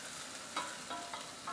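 Onions fry in a pan with balsamic, giving a steady hiss of sizzling broken by a few short bursts as they are stirred, close and alone.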